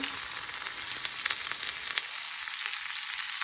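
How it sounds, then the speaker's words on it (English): Onions sizzle in hot olive oil, a soft steady frying crackle with light scattered pops that thins slightly toward the end. "Onions are sauteing"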